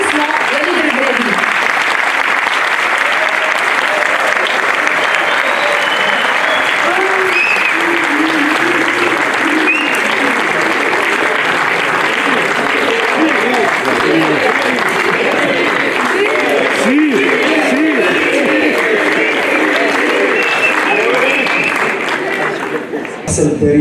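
A large audience applauds steadily in a hall to welcome football coach Walid Regragui, a long, loud, continuous roar of clapping with a murmur of crowd voices beneath it, tapering off near the end.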